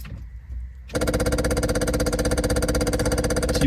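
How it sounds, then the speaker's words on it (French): An electric fuel pump on an MGB GT rally car being rebuilt starts up after a short quiet lead-in, then runs steadily with a fast, even ticking pulse, close and fairly loud, with no voices. "Petit bruit significatif d'une pompe à essence qui fonctionne."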